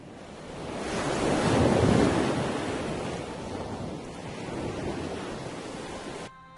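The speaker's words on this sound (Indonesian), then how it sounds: "Kita bisa melihat video dari tsunami." Tsunami waves surge in news footage, a continuous broad roar of rushing water and wind that swells early, then eases into a steady churning wash with no voices.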